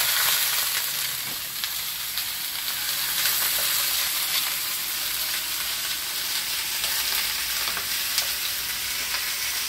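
Vegetables for ratatouille toasting in a pan with grape seed oil, giving a steady, loud hiss and crackle that continues throughout with no talking.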